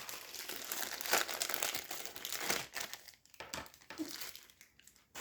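A small plastic bag is handled up close, giving uneven bursts of crisp crinkling and rustling that swell and fade over a few seconds, with no speech.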